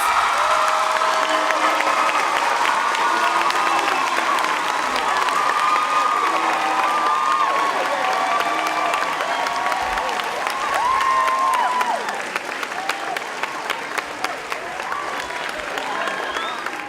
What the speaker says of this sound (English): heartfelt round of applause.